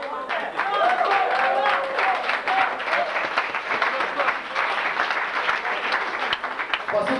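Audience applause for a DJ, lively clapping from a crowd that swells after the first second and holds steady with rapid, uneven claps throughout, fairly close and loud.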